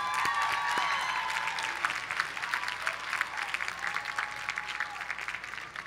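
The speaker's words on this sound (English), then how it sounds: "They deserve a round of applause" A commencement crowd claps for faculty, staff and trustees, a sustained, full round of applause from many hands filling the hall at steady strength.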